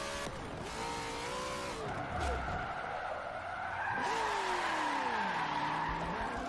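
A Ford Mustang RTR drifts in the racing game Forza Motorsport 7, with tires squealing in long wavering sweeps over a loud engine drone, and a voice talks faintly underneath.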